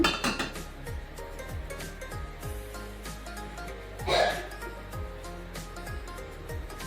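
A metal cooking pot set onto a stove gives a few light clinks and knocks, close and fairly soft, with some faint talk around it.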